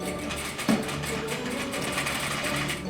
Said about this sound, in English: here I'm stitching the sleeve bands closed